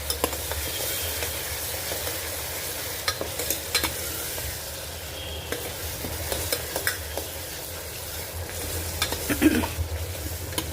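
Garlic and onion sautéing in oil before tomatoes go in: a continuous close sizzle with frequent stirring scrapes and occasional utensil clinks against the pan.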